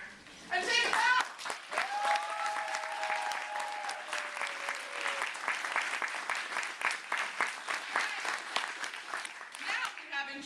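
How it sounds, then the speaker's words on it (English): A high school theater audience claps for a departing actor at a monologue night, steady applause with a few whoops and voices mixed in, lasting around nine seconds. "So we want everyone to have a chance to clap for him once again"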